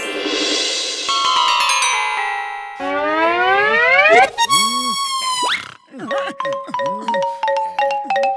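A cartoon phone ringing in Motu Patlu, a bright synthetic ringtone of chiming, bouncing electronic tones that swoop and repeat rhythmically, loud and close, amid playful comic sound effects.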